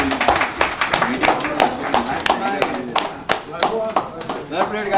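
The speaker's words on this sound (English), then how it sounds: "Once again for Sesa, a big round of applause." A crowd at a Goan football tournament final at Wembley claps for a player, scattered sharp hand claps in an uneven rhythm, with voices chattering underneath.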